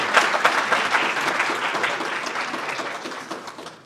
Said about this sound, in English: Let's give a huge round of applause to those artists who just performed there.